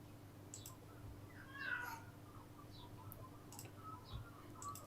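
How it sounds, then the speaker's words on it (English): An elderly, senile cat meows once, a short faint cry near the start, against a quiet room with a low steady hum and scattered soft clicks. "Let's talk about my senile cat, shall we?"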